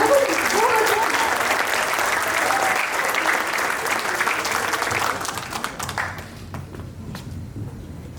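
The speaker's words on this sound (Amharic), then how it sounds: "እዚህ ጋር የምታያቸው ሁሉም አሁን የተመረቁ ኢንጂነሮች በተለያየ ሁሉም ተመራቂዎች ናቸውና አንድ ጊዜ አጨብጭቡላቸው።" Sustained applause from a crowd at a graduation celebration for newly graduated engineers, dense clapping holding steady for about five seconds before thinning into scattered claps.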